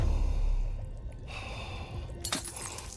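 Heavy, labored breathing from a video game character, a few loud gasping breaths up front that settle into quieter breaths under a hiss of ambient game sound.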